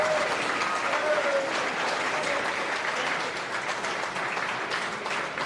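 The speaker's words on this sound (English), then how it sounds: "Can you get a round of applause?" A dense, steady round of applause from a seated crowd fills the room at a senior athletic awards dinner, with many hands clapping continuously and evenly throughout.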